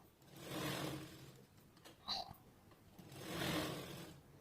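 A home sewing machine stitches fabric in two quiet, rhythmic runs with a short pause and a small click between them.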